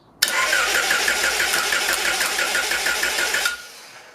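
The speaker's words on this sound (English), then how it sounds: "Easy way to get it started with the starter and just the flywheel itself." A Honda engine sits out of the car on a stand, spun over by its starter through the bare flywheel in one loud, steady cranking run of about three seconds with rhythmic compression pulses, then stopping abruptly.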